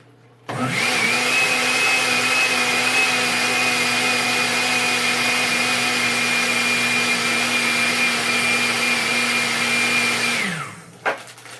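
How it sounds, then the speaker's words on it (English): A blender whirs steadily for about ten seconds, mixing a vanilla shake with matcha. The motor drone is loud and close with a constant pitch, then it winds down and stops, followed by a faint clink. "Just blend this some more."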